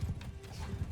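Horse hooves clip-clopping in Mount & Blade II: Bannerlord, a steady, close rhythm of hoof strikes filling the whole second with no talk over it.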